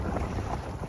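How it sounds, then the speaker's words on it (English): Strong wind buffets a sailboat carrying its full rig at sea, a dense, continuous rush of wind noise over the microphone with a low rumble of water underneath, loud and unbroken throughout. "That brought with it quite a lot of wind."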